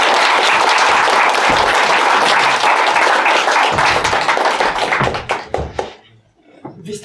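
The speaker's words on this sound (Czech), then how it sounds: "Velký potlesk," Loud audience applause at an improv comedy match fills the room, a dense clapping roar that breaks into scattered claps and dies away near the end.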